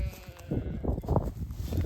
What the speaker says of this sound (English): there's a lot of lambs out here